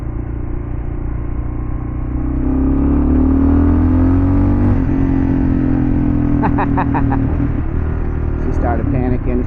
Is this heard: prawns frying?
no